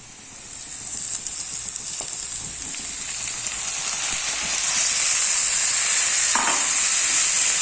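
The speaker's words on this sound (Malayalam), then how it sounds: "ഇനി നമുക്കിതിലേക്ക് അരിഞ്ഞു വെച്ചിട്ടുള്ള ഉരുളക്കിഴങ്ങ് ഉണ്ടല്ലോ, അതിട്ട് കൊടുക്കാം" Chopped potatoes drop into oil with softened frying onions for a potato shallow fry, and the close, even sizzle swells and grows louder and hissier partway through, with a brief scrape and no talk.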